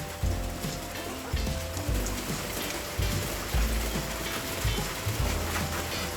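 Heavy rain pours down on a muddy poultry yard as a dense, continuous hiss, with low thuds recurring at a regular pace beneath it and no voices.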